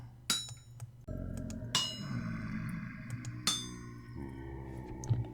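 Metal struck with a hammer on an anvil at a smithing station in the game Vintage Story: four sharp, ringing clangs spaced a second or two apart, with a low hum between them.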